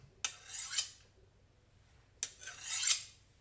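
A kitchen knife is drawn across a sharpener in two separate strokes, each a close, quiet rasping scrape with a sharp start, separated by a short silence.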